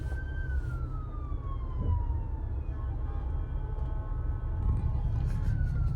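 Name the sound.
ambulance and police car sirens on a Dubai street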